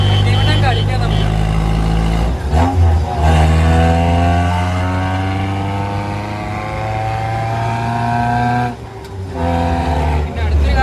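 A Maruti Suzuki Gypsy 4x4, an old-style all-wheel-drive utility vehicle, drives with its engine revving loudly and close, the drone climbing steadily in pitch with brief dips between gear changes.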